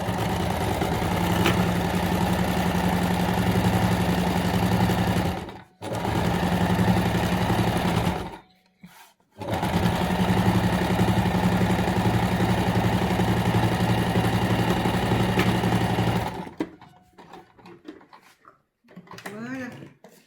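A sewing machine stitching a fabric mask runs in steady, loud bursts with a low mechanical hum, stopping briefly twice before falling quiet at the end.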